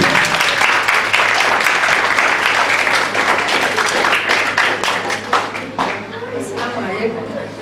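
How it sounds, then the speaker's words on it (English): Sustained applause from an audience at a peace education event in a school in Kaduna, steady and loud across the whole stretch before thinning out near the end. "A round of applause for her."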